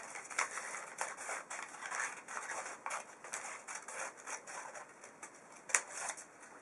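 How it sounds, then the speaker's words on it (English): Scissors snipping through a paper strip while making a Möbius-strip linked-hearts craft, a quiet run of irregular crisp cuts close by with no talk. "Now we're going to cut the second strip."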